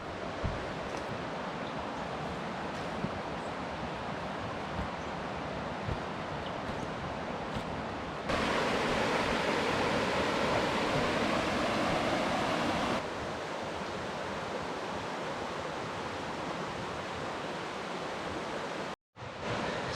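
Rushing water of the Snowy River, a steady broadband roar close by that grows louder and denser for several seconds midway, then settles back before a brief dropout near the end.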